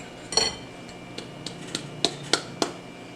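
Spoon stirring cornstarch into chicken teriyaki sauce in a pot, a quiet scatter of light clinks and taps against the metal, about eight sharp knocks at irregular intervals over a low background hum.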